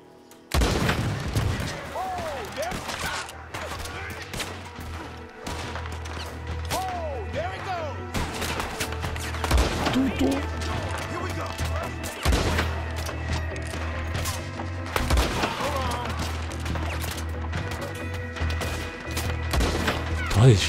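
Gunfire in Red Dead Redemption 2 erupts in repeated loud bursts and sharp cracks over a steady background din, with a voice talking now and then among the shots.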